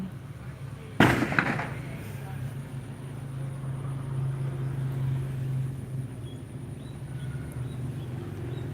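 A single sharp firecracker bang cracks out near the start, echoing briefly before fading into a steady low rumble of background noise.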